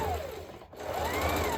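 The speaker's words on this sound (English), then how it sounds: "I'm going to sew it with half-inch seam allowance." Sewing machine running a half-inch seam through satin lining with foam corset cups, a short steady whirring stitch that dips briefly and then resumes, close and fairly loud.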